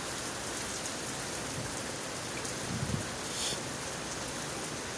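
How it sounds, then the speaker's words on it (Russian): Steady rain falls outdoors in town, a soft, even hiss of drops on surfaces that continues unbroken throughout, fairly faint and with no voices. "Дождик, чтобы цветы росли."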